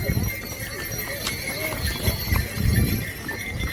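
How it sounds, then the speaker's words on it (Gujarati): Hooves clop on hard ground in an uneven rhythm, several horses moving nearby at the horse parking area below Kedarnath Temple in a snowy valley, while people talk in the background. "આ છે કેદારનાથનું ઘોડા પાર્કિંગ"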